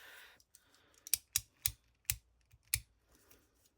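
An X-Acto knife cuts paper along a small ruler for a craft envelope, giving five or six sharp, close scraping strokes in an uneven rhythm, each separated by brief quiet.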